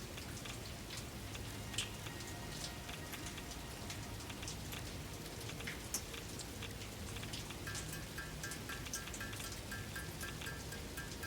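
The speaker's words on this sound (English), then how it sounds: "I love the sound of rain against the metal roof." Rain drumming on a metal roof in the factory game Satisfactory, a dense, steady patter with scattered sharper drops, continuous and fairly loud throughout without speech.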